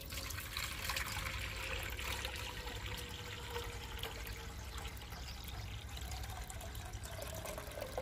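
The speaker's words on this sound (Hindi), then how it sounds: "अब भगोने में पानी डाल रहे हैं।" Water pours steadily into a cooking pot to cover petha (ash gourd pieces), a continuous splashing trickle, fairly quiet and close, with no voices.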